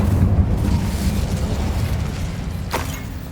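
Incendio fire spell blast from Hogwarts Legacy, a loud low roaring burst that rumbles steadily for a few seconds with a sharper crackle near the end, no voices.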